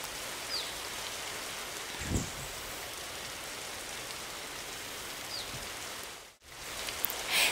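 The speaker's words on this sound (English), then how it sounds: "The rain actually looks kind of peaceful here on Jungle Island." Steady rainfall on Jungle Island in the Wild Horse Islands video game, a constant even hiss of drops with faint scattered ticks, uninterrupted and without voices, dipping briefly near the end.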